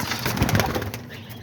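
Homing and roller pigeons coo in a loft, a close, low burbling run of calls with a faint flutter of movement, fading toward the end.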